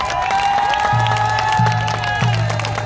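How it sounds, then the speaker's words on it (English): Rally crowd in DC for the Apache Stronghold at a Save Oak Flat event applauds and cheers, a continuous loud outdoor roar with clapping, plus repeated low droning tones running beneath. "give a big round of applause to the Apache Stronghold"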